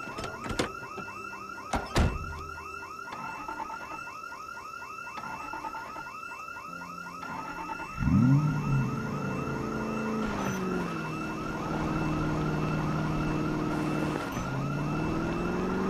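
A building burglar alarm wails in Project Zomboid, a steady electronic siren pulsing in rapid repeating warbles, loud and continuous, then shifting to a lower sweeping tone partway through with no voices over it.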